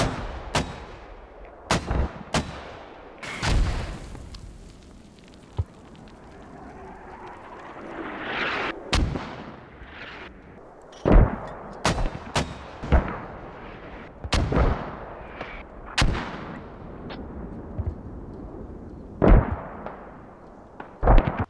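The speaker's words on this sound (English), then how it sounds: "There was a really excellent use of mortars by PSG throughout the operation." Mortar blasts and gunfire in a military video game, sharp loud booms and cracks spread irregularly across the stretch with rumbling tails between them, some close and some more distant.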